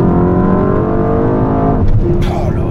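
A Mercedes-AMG S63 E-Performance engine accelerates hard, a loud, close, rising drone climbing steadily in pitch before a brief shift-like break and a renewed pull at the end.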